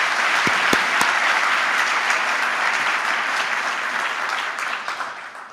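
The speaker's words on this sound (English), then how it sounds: "Let's give yourselves and them a round of applause." An audience at a museum's 25th anniversary event claps in a broad, steady round of applause, loud and sustained before gradually tapering off, with a few sharp individual claps standing out early.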